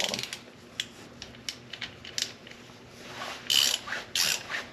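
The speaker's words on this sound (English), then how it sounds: "Them all snugged up and then we'll really go cranking on them." A hand ratchet snugs up bolts on a blueprint engine build, with bursts of rapid clicking that come close and fairly loud, the strokes growing brisker and stronger toward the end, and no talk.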